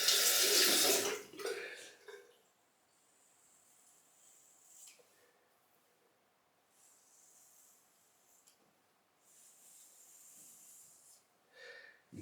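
A razor gets rinsed under a running tap during a head shave: a loud gush of water at first, then quieter trickles and splashes.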